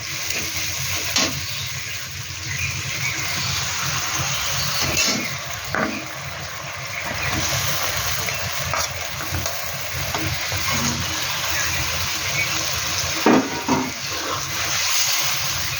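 Fish and potato pieces frying in hot oil in a pan, a steady close sizzle with occasional sharp crackles and pops throughout, no voices.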